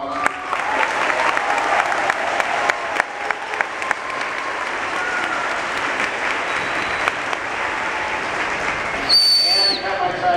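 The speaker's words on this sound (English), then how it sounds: "how about a nice round of applause?" Audience applause after a school intermediate band concert at a middle school, a dense steady wash of clapping lasting throughout, with a few whistles cutting in near the end.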